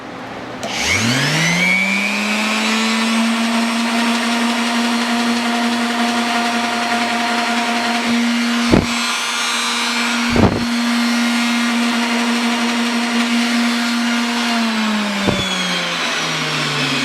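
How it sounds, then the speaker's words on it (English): An orbital sander takes sap off a piece of rustic wood. Its motor whirs up quickly into a loud, steady whine that holds for many seconds, broken by a few sharp knocks, before winding down at the end. "we're going to knock it off with our orbital sander"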